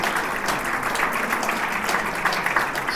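Lecture audience clapping steadily throughout, a dense continuous patter of many hands filling the room at even loudness, with no voices standing out.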